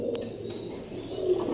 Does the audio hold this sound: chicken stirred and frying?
no